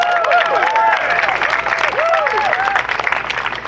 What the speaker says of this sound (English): I have to give you a chance to clap and cheer.